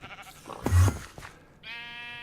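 Sheep in a Minecraft-style video game bleat twice, one short, sharp cry in the middle and a longer wavering bleat at the end, close and clear with no talking.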